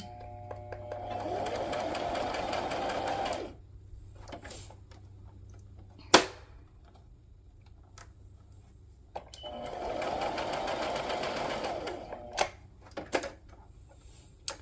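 A sewing machine runs in two long bursts of rapid stitching, separated by a pause filled with clicks and small handling sounds.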